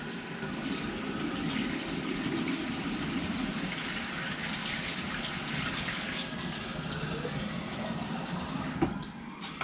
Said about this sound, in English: I'm gonna get myself some water, actually.